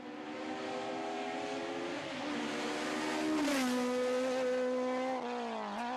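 A race car climbs the Falperra hill climb in Portugal, its engine loud and close, rising in pitch through the gears and dropping briefly at each shift across several seconds.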